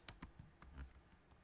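A few quiet clicks of computer keys, pressed in a short irregular burst as a keyboard shortcut is entered, close and faint, with no voice.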